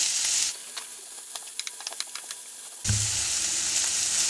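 Vegetables with added spices sizzle in a frying pan, a bright hissing crackle that drops to soft scattered pops for a couple of seconds, then surges back loud and steady.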